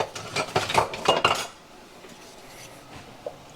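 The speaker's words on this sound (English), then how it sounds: "stir it up" A spoon stirs homemade Ro-tel, tomatoes with green chilies, in a pot, a quick series of metallic scrapes and clinks for about a second and a half, then near quiet with one faint final tap.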